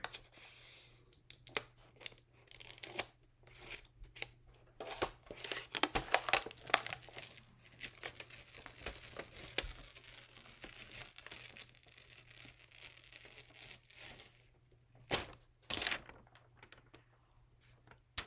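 Heat tape crinkling and tearing as it is handled for a sublimation sign made with Chalk Couture heat transfers on a wood cutout, close and intermittent, with irregular bursts of rustling and a few sharp rips.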